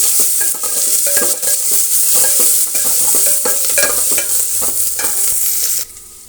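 Sliced onion and curry leaves fry in a hot pan for rasam, with a loud continuous sizzle and repeated scraping and clinking of a spoon stirring throughout; no one speaks.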